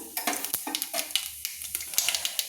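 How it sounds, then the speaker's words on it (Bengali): Nigella seeds tempering in hot oil in a pan, a soft sizzle broken by repeated light scrapes and stirring clinks, close and steady, with no talk. "তার জন্য আমি দেখুন দিয়ে দিলাম কালো জিরে ফোড়ন দিয়ে দিলাম"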